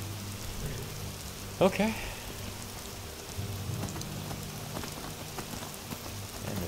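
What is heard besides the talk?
rain falling in the video game Avowed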